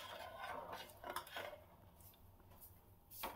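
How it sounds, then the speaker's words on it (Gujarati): A utensil stirs green bean and potato curry with water in a pot, giving quiet, irregular scrapes and soft clinks against the metal, faint and close. "બે કપ જેટલું મેં પાણી નાખેલું છે અને બધું સારી રીતે મિક્સ કરી લેશું."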